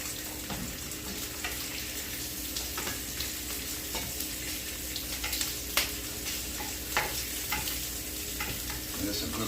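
Sausage, beef, green peppers and onions fry in a pan with a constant dense sizzle and occasional scraping stirs, close and steady throughout, with no talking.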